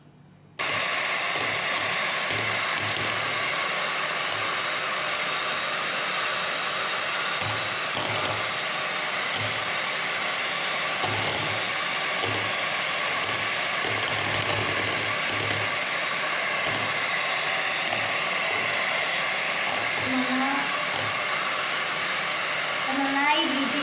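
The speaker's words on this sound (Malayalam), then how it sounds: "ആദ്യം മുട്ട ബീറ്റ് ചെയ്യാൻ പോവാണ്." An electric hand beater whips four eggs for a cake batter, giving a steady, close motor whir that runs unbroken for more than twenty seconds with no one speaking.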